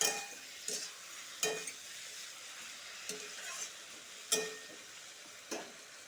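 Mixed vegetables for a labra curry fry in a pan once their water has cooked off, a quiet constant sizzle broken by about six distinct scraping stirs spaced a second or so apart.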